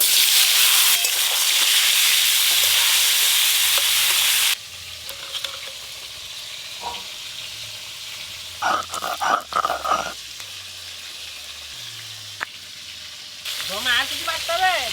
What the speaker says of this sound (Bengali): এবার এই বেগুনগুলো হালকা করে ভেজে নেব।